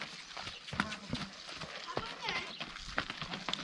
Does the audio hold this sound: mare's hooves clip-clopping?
yes